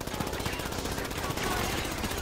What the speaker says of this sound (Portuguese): os tiros não pegam